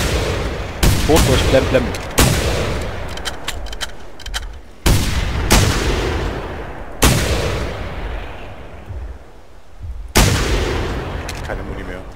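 Rifle shots in the hunting video game theHunter: Primal, five loud, sharp cracks spaced a couple of seconds apart, each followed by a long rolling echo, with someone speaking briefly between them.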